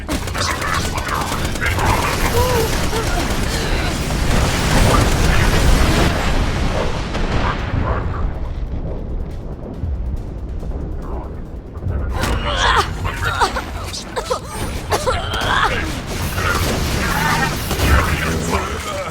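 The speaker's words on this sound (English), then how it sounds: "Launching grenade." A grenade launches and explodes in a Borderlands 2 firefight, a loud, dense roar of blasts and gunfire that drops away briefly midway before the heavy booms and crackle return, with game voices over the action.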